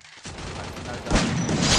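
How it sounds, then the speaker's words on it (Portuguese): Rapid gunfire from the Free Fire mobile battle royale game during a tournament match, bursts of shots running continuously and growing louder toward the end, with a player's voice faintly mixed in. "Um tiro, outro marcado, um tiro, outro marcado à esquerda, Magão."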